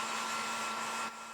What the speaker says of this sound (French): Candy vient de brancher son sèche-cheveux.